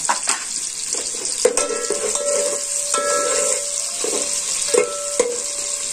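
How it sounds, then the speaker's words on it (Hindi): Sliced onions frying in hot oil make a loud, continuous crackling sizzle, with occasional clinks and scrapes from a utensil stirring the pan. "ऑयल गर्म हो गया है और अब हम इसमें डालते हैं प्याज।"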